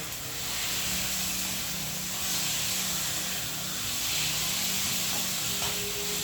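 Chicken browning in hot oil over high heat for a Caribbean chicken stew, a loud continuous sizzle and hiss with occasional splattering pops, close and steady throughout.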